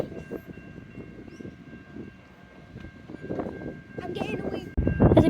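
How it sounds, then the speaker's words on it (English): An Adelaide Metro train approaches Largs North station, a low rumble building from the distance and growing louder toward the end, with a person talking over it and a faint high tone. "There's a train coming."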